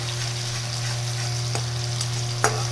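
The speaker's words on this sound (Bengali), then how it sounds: "মশলাটাকে একটু কষিয়ে নেব" Masala spice paste with cumin powder and Kashmiri chili powder frying and being stirred in a pan, a loud, constant sizzle with a low hum under it and a couple of sharp scrapes from the stirring.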